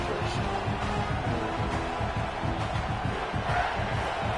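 Home crowd cheering at a South Carolina football game, a dense, steady roar of many voices filling the stadium throughout, loud and continuous with no single voice standing out.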